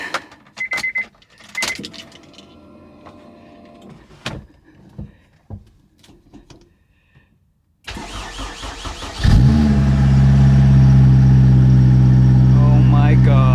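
Honda S2000 engine cranking and catching after a battery check, then settling into a loud, steady idle close by, preceded by quieter clicks and handling noises.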